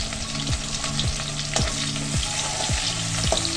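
Chopped onion and green chillies fry in a pan with a steady sizzle, while a spatula scrapes and stirs in a regular rhythm of soft knocks.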